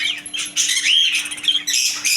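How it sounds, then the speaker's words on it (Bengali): Small budgerigars in a bird shop chirp and chatter continuously, a dense, high-pitched twittering from several birds close together, with a faint steady hum underneath. "বাচ্চা টাইপের বাজরিকা পাখি জোড়া"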